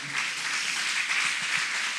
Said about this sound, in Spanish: Dele una ofrenda de palmas al Señor.